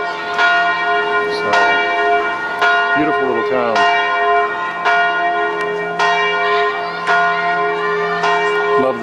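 A church bell in a small town church tower rings loud and near, struck repeatedly at an uneven pace, each strike leaving a long shimmering ring that overlaps the next.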